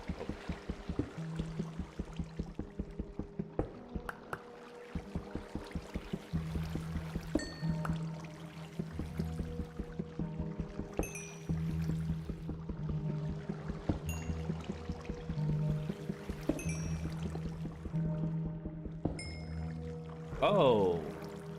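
Flowing water in the Minecraft video game gives a continuous pouring rush under frequent talk, with clicks, tones and scattered game noises around it.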